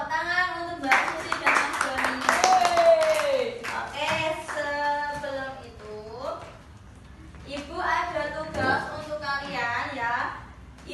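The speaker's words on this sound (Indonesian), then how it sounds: "Tepuk tangan untuk Mbak" Classroom applause for a student during a micro-teaching lesson: a burst of clapping hands mixed with loud, lively voices, then more talking and cheering as the clapping fades.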